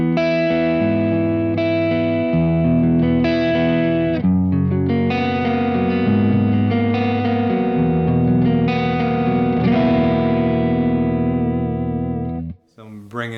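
A lightly picked electric guitar through a Kemper Profiler with slight drive and reverb plays ringing, sustained chords and melodic notes, not pristine clean, before cutting off abruptly near the end.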